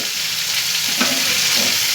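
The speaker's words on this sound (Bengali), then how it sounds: "এখানে উচ্ছেগুলো আগে ভাজা বসিয়ে দিয়েছি, আর এই সবজিগুলো দিয়ে দেবো।" Bitter gourd and mixed vegetables fry in a pan with a steady, close hissing sizzle and a faint stir or scrape partway through, with no talking.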